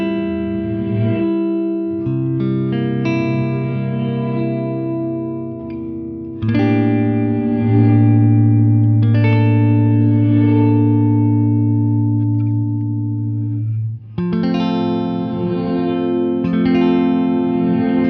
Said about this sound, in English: you'll hear the dry signal and then the reverse reverb rushing in after that delay period